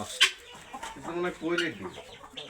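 Black-meat chickens, with black flesh and bones, cluck a few times at close range at a bird park, the clucks mixed with one or two brief, bright calls, and no one speaking.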